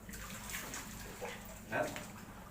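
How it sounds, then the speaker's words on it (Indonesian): Water pours into a container of soybeans being prepared for tempe, a steady close splashing gush that swells briefly near the end. No voices. "kita tambah lagi airnya supaya kita lebih mudah ngaduknya lagi"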